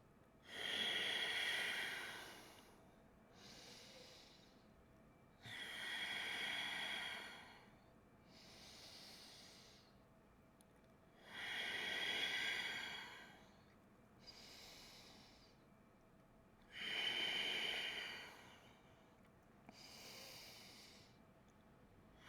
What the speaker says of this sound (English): We have 5 deep breaths here.